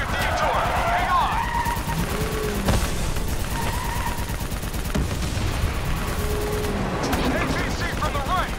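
Rapid gunfire rattles through a Call of Duty Black Ops III firefight, sustained bursts layered with booms and shouted voices over a constant, loud battle din.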